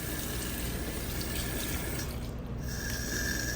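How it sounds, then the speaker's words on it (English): Cold tap water pours steadily into a sink, a constant close hiss and splash that continues without pause. "Now we're gonna turn on our cold water"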